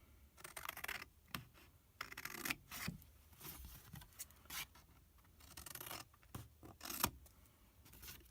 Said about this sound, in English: I'm just going to use my scissors and cut down these